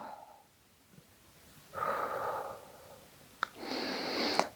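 Breathing during a yoga posture exercise: a soft breathy exhale swells for about a second, then after a short sniff a second longer, airy exhalation follows, close and quiet with no talking.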